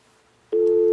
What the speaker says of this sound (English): There's your secondary dial tone.